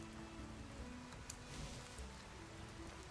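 Steady rain falls in the video game Skyrim, a soft, even hiss throughout with a few faint drips and a low background rumble, no voices.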